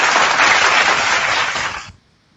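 Loud, dense studio applause filling a televised debate set, a sustained burst of many hands clapping that cuts off abruptly near the end, leaving silence.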